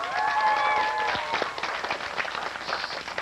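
A studio audience at a televised kids' quiz final applauds, a steady wash of clapping from many hands that holds for a few seconds, with a brief tonal sound near the start.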